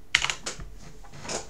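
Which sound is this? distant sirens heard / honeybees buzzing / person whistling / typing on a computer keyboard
typing on a computer keyboard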